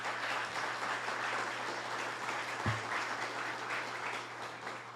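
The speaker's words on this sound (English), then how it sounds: "Let's give them a round of applause." Audience applause at a Sister Cities welcome event in a museum, a steady, fairly faint wash of clapping from a distant crowd held throughout, with no voices over it.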